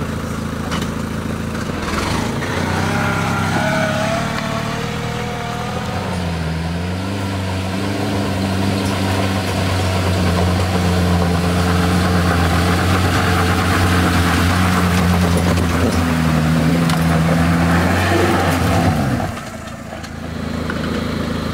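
Citroën C15 van straining up a steep wet slope, its engine droning loudly and continuously as the revs rise and hold, then easing off near the end, with no voices.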